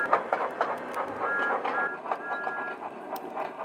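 A toy-style train runs in a Thomas & Friends video game, a steady rolling rumble with rhythmic clatter and faint high tonal squeals, and no speech over it.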